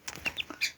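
A Serama chick, a Malaysian bantam chicken, peeps in a brief series of three or four high, thin chirps, close and fairly quiet.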